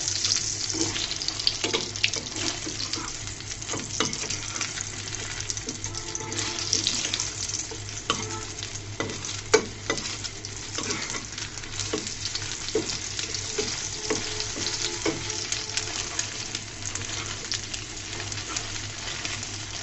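An egg sizzles steadily in a hot pan as it is rolled over, with a continuous crackling hiss and occasional sharp scraping clicks. The egg is being cooked with sweet pumpkin.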